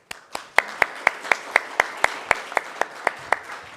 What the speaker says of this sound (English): And I think for the speakers, one round of applause.